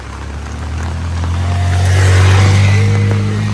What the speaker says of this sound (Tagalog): Hoy, tabi-tabi, may motor.